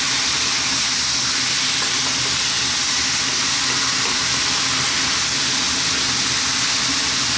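Fresh ripe tomatoes sizzle in a pan of lamb and potato curry, giving a steady, dense hiss of frying that runs evenly throughout with no talking.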